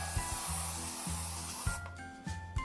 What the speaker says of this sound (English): I'm going to take some cooking spray and I'm going to spray it